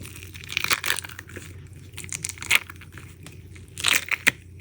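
Crisp crinkling and tearing sounds as paper is peeled off cured resin in several short bursts, close and fairly loud, with quiet pauses between.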